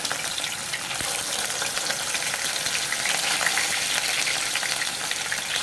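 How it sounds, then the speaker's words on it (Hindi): Pieces of rohu fish deep frying in hot oil in a kadhai, a steady dense sizzle and crackle holding at even loudness throughout, close and alone. "अब हम इसमें फिश को डाल करके फ्राई करके एक एक पीस को निकाल लेंगे इस तरह से"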